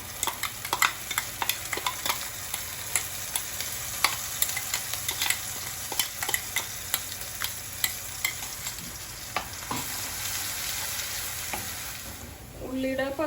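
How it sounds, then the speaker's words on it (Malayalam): Ground onion paste sautéing in hot oil with browned cumin seeds in a pan while making bhindi masala: a steady, close sizzle with frequent scraping stirs and clicks throughout. "സവാള ഇട്ട് വഴറ്റാം."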